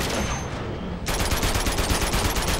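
Dense automatic gunfire in Uncharted 2 deathmatch, a loud continuous rattle of rapid shots that sharpens after the first second, with no talking.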